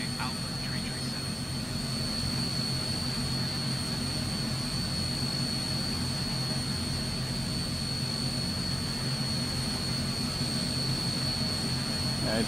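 Transall C160 turboprop engines taxiing in Microsoft Flight Simulator, a constant loud droning roar with steady high whining tones, unchanging throughout and alone.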